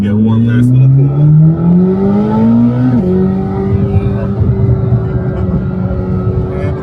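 A Chevrolet Corvette C8 engine revs hard with rising pitch, then shifts and keeps pulling at a steady drone, loud and close.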